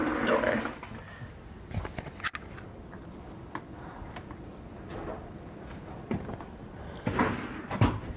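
A door opening out onto deep snow after a blizzard, heard as a few short clunks and scrapes of the handle and door close by, scattered across an otherwise quiet stretch.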